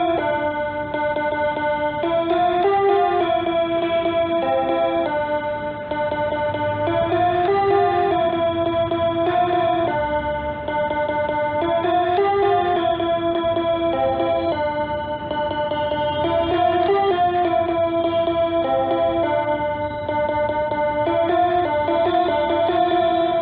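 A Bigfun toy keyboard plays the first and second lines of a song back to back, a long stream of bright electronic melody notes over a ticking rhythm accompaniment, steady and close, with no talking.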